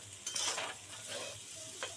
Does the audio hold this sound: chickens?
no